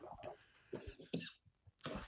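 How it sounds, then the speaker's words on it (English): A man coughs in several harsh bursts after hitting a hookah, close to the mic, with breaths and pauses between the fits. "He keeps coughing when he hits the hookah."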